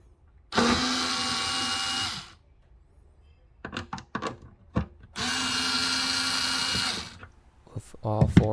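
A power drill spins out tail light bolts on a Fiat 500e in two loud, close whirring bursts of about two seconds each, with clicks and handling noises between and after.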